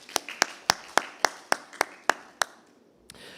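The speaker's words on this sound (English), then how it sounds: "can we have a round of applause for our speakers once again?" At an academic conference, a single person claps about ten sharp, evenly spaced times near the microphone, each clap distinct and loud against a quiet room, then the clapping stops.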